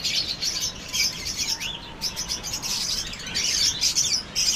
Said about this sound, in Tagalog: May uwak mga kapabinjo oh.